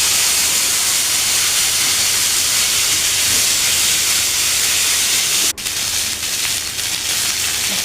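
Cauliflower pieces frying in hot oil give a steady, loud broadband hiss and sizzle that runs unbroken, with a brief sharp crackle near the end.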